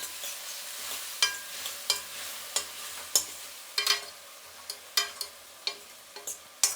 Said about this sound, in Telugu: ఇప్పుడు ఇది కొంచెం సిమ్లో పెట్టుకొని వేయించుకుందాము